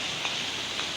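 Steady rain falling outdoors, a dense even hiss of drops with no pauses, fairly close and alone without voices.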